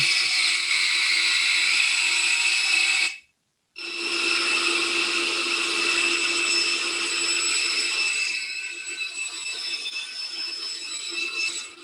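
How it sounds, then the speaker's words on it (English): Steady, continuous saw rasping through bamboo strips on a jig with a sharp mechanical whine, briefly cutting out for a moment, then resuming at a slightly different pitch. "This was a prototype jig that we did for sawing bamboo."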